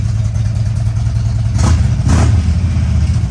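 A Harley-Davidson motorcycle engine runs with a deep, loud idle and surges into two short revs before settling back, heard close up with no talking.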